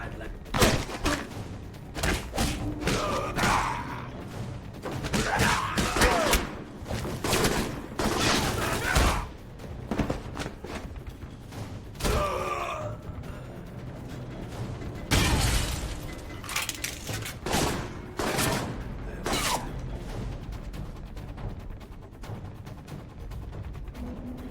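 Turret gunfire in the video game Alpha Protocol: repeated bursts of rapid shots and sharp impacts come in clusters across the span, loud and close, with a voice talking in between.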